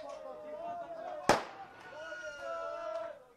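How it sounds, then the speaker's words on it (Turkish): A single sharp firecracker bang bursts out as football fans at a Malatyaspor match throw fireworks toward the pitch, heard over a commentator's voice. "Maytap atıyor Amatya Spor taraftarları sahaya. Sesi size kadar geliyordur."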